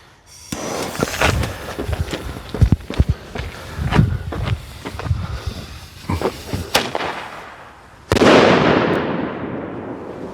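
Several sharp daytime firework bangs and pops crackle in quick succession, ending with one loud, booming salute explosion that rings out and fades.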